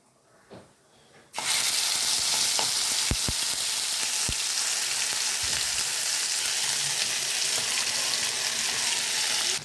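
Spiced pea filling hitting hot oil and frying with a loud, continuous sizzle that bursts in suddenly, with a few sharp spatula clinks against the pan as it cooks.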